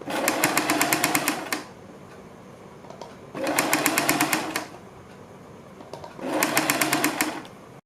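Sewing machine stitching a folded strip on a side-dori kurti, running in three steady bursts of rapid needle clatter about a second and a half each, separated by short quiet pauses.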